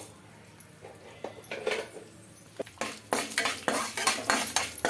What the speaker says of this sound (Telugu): వేసి బాగా ఫ్రై చేసుకోవాలండి వీటిని